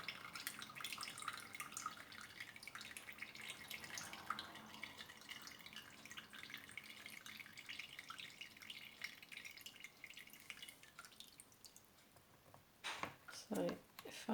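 Whey drips and trickles quietly through a sieve from curdled milk while homemade ricotta drains, a faint continuous patter with a few louder splashy moments near the end.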